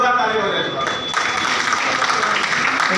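Loud, dense applause from a seminar audience, continuous clapping that fills the room for several seconds without letup.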